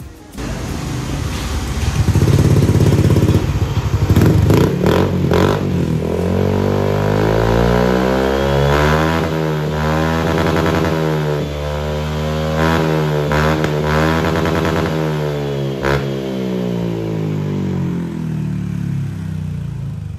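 A Honda Click 125i scooter engine revs hard through a loud, throaty Villain GP2 aftermarket exhaust, rising and falling in pitch over repeated throttle blips, close and with no talking.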